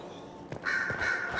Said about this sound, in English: That's a lot of ravens or crows or whatever.